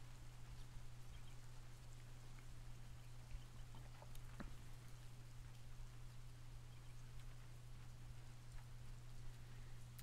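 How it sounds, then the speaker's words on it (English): Steady recorded rain from the rainymood.com website plays as a continuous, even hiss of falling drops, with a low constant hum beneath it and no voices. "this is a website called rainymood.com, which is supplying the sweet, sweet rain"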